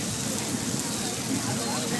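Simulated rainstorm pouring down on the Universal Studios Hollywood flash flood ride, a dense, steady hiss of falling water that fills the whole clip, loud and close.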